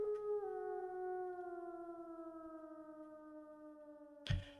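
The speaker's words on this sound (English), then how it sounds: "A howl." A long, wavering wolf howl in a video game, one sustained note that slowly falls in pitch and rings clearly, cut off by a sudden thud at the end.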